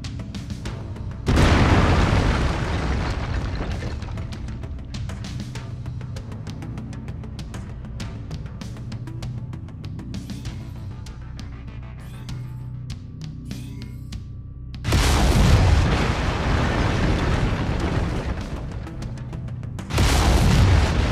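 Mech laser weapons firing in the MechWarrior 5: Mercenaries video game, heavy booming bursts at the start and again near the end over a low rumbling cockpit hum.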